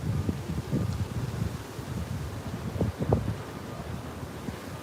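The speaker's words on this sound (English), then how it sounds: "Getting a little bit windy now." Wind blows steadily outdoors on Roosevelt Island in New York City, a continuous low rushing and buffeting against the microphone with faint rustling, and no voices.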